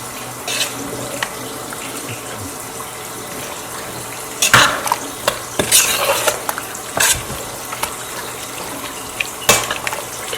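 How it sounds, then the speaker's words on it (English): A spoon stirring okra stew with spinach in a pot, making scraping, sloshing clatter in irregular bursts against a steady background hiss, with no one talking. "so stir."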